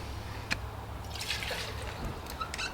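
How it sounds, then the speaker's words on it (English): Water is poured into the container of a furniture spray gun: a soft trickle and dribble of liquid with a few small knocks and splashes, close by and fairly quiet. "Then we fill up with a little water."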